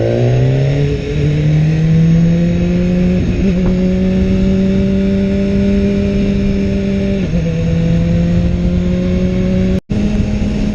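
A BMW S1000R motorcycle engine runs loud and close while being ridden, holding a steady, strong tone that climbs in pitch and drops back with two brief breaks, like gear changes, with no talk over it.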